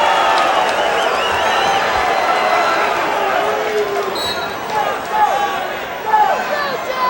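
Paulsboro crowd shouting and cheering at a 2003 high school wrestling regional final, a continuous noisy din with a few louder surges near the end, heard under ongoing commentary.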